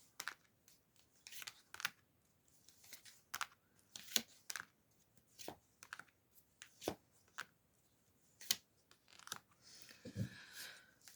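Tarot cards being shuffled and handled nearby: a scattered series of crisp flicks and snaps, irregular in rhythm, with a softer rustling burst near the end.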